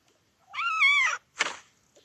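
A single clear cat meow, close and drawn out, followed by a short breathy huff.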